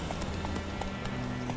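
Rhythmic clip-clop of horse hooves at a steady trot in the video game Witcher 3, with a low rumbling background underneath.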